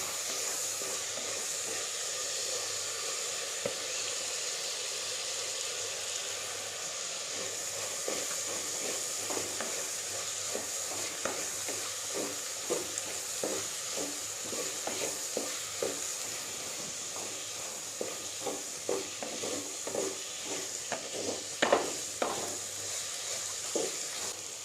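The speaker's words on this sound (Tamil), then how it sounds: "இப்போ நம்ம பொடியை நறுக்கி வச்ச பூண்டு அதில் சேர்த்துக்கலாம்." Chopped garlic sizzles steadily with softened onions in a pan for Tamil-style Pallipalayam chicken, with a constant frying hiss and repeated scraping stirs building toward the end; no one speaks.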